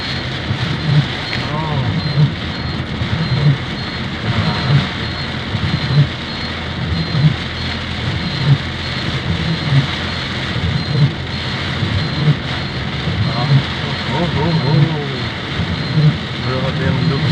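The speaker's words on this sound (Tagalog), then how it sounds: "grabe lakas ng ulan guys. Walang tigil yung lakas ng ulan." Heavy, continuous rain drums on a car during a drive through Caloocan West, a dense steady roar with people talking over it throughout.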